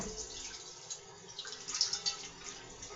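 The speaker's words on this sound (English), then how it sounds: "So I'm going to turn it around and I'm going to wash it." A pan being washed with dish liquid under running water in a kitchen sink; soft splashing and trickling with a few brief louder sloshes, quiet and close, with no talking.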